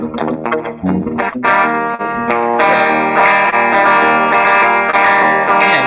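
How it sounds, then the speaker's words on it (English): An electric guitar plays chords and notes with a short slapback echo, starting choppy and then ringing out in sustained, effect-laden strums. "It's got that little slap back kind of reverb"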